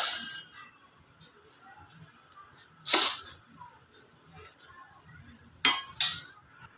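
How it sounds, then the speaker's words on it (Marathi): Rice is tipped into prawn masala in a kadhai, heard as a few sharp bursts of pouring and scraping against the pan, separated by quiet gaps with faint clinks. "राईस टाकल्या."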